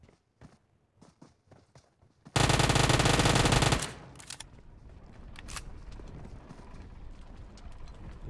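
In the PUBG battle game, a burst of automatic gunfire rips out loud and dense for over a second, followed by lighter clicks, footsteps and faint scattered shots, with no talk.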